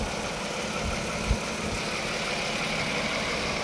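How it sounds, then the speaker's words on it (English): A 2011 Lexus ES 350 engine with 90,000 miles idles steadily at close range, a low constant hum with one brief knock partway through. "you can hear the vehicle is running"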